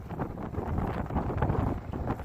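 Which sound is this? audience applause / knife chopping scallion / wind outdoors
wind outdoors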